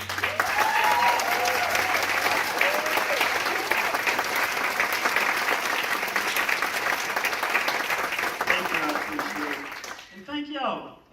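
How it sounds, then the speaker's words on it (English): A town hall audience in Mississippi gives a sustained round of applause for a singer, loud dense clapping with some cheers that fades out near the end as a voice begins speaking. "Give her a round of applause."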